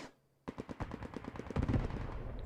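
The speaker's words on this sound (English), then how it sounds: "you can hear the gunfire getting quieter and quieter" Dense gunfire from a Post Scriptum tournament match rattles almost continuously after a brief quiet start: rapid overlapping shots and bursts, loud and close, thickening toward the end.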